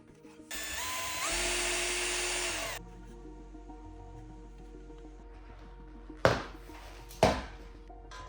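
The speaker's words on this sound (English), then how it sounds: "We'll drill 3 holes to install cable glands." A power drill bores holes in an electrical junction box for cable glands, with one loud whining burst of about two seconds, then quiet hum and two sharp knocks near the end.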